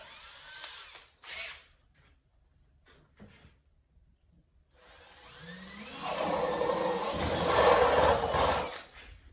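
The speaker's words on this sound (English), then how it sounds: "That is a 5/8 inch spade bit I've got here for that." A power drill with a 5/8 inch spade bit starts with brief whirring bursts, then settles into a sustained, loud, rising grinding whir as it bores through the center of a plastic bung, with no talk.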